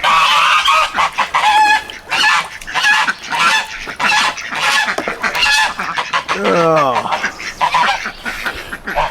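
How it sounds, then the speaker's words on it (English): A flock of chickens squawking and clucking continuously up close, loud overlapping calls with honking cries mixed in. "feeding the chickens"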